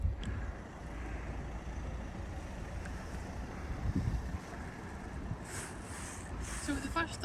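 Cold wind blowing outdoors in Dundee, Scotland, on a sunny day: a steady, low rumbling gust buffeting the microphone throughout, fairly loud and continuous.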